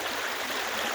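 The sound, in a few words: overfull creek rushing after heavy rain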